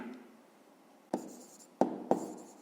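Pen writing by hand on paper during a fifth-grade maths exercise, working out a fraction: a faint, quiet scratch that breaks into three short, sharper strokes near the end, with no talking.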